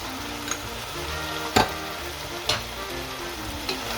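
Beef stew with tomato puree and cayenne pepper being stirred in a pot, a steady simmering sizzle with a few soft scraping knocks of the spoon against the pot.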